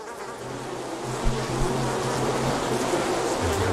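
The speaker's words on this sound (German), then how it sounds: "Oh, hier ist das Bienenhaus." Dense, steady buzzing of bees swarming around a beehive in the horror video game Mundaun, loud and continuous throughout with a couple of faint low thumps.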